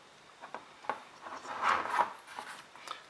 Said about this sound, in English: I'm just going to trim off my excess string there to make it look prettier.